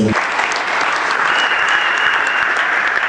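Loud, dense applause from a large church crowd, sustained and even throughout.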